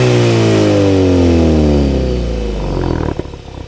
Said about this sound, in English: So this is the audio clip of the quiet exhaust.